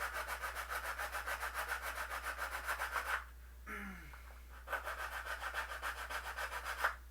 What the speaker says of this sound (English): I'm just kind of taking a flat file right there